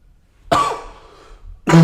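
One close, forceful cough bursting out of near silence, its rough tail fading before a second short cough begins at the end.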